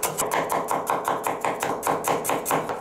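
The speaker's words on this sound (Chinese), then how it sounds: "适量的蒜子，切碎。" Garlic cloves chopped with a knife on a cutting board in a kitchen, a brisk, even series of sharp taps repeating close and clear, about four per second, with no talking.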